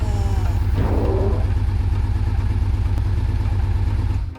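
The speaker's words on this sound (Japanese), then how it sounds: "なんとなく燃焼が力強くなって排気音が大きくなった気がします" A Yamaha Vmax 1200 motorcycle engine running after a spark-plug grounding modification, its exhaust a close, loud, steady throb with a brief rev near the start and no voices.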